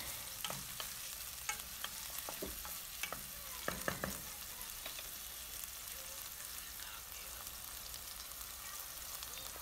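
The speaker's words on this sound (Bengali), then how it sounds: "নাড়াচাড়া করতে হবে যাতে পেঁয়াজটা পুড়ে না যায়" Chopped onion sizzles steadily in hot oil while being stirred in a pan, with scattered sharp scraping clicks from the spatula against the pan over a continuous frying hiss, no talking.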